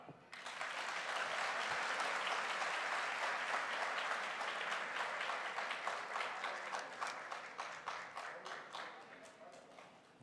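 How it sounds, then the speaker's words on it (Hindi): A crowd at a direct-selling promotion event applauds loudly and steadily for several seconds, the clapping thinning toward the end into scattered individual claps. "तालियां।"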